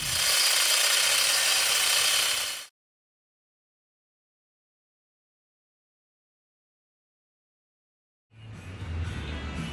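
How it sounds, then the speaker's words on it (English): Cutoff wheel grinding rusted screws on an old trailer with rotted boards: a loud, harsh, high whine for a few seconds, then several seconds of silence, then the grinding starts again. "So, time for a cutoff wheel."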